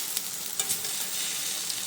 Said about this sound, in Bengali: ভাজাভাজি করছি। দেখেন ফুলে ফুলে কত টোবা টোবা হয়ে যাচ্ছে।